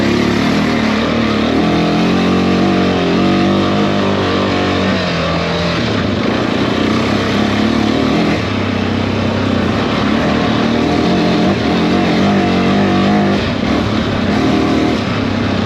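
A worn Honda four-wheeler engine drones loudly and continuously up close, its pitch shifting and straining as it struggles to rev freely and never climbs cleanly.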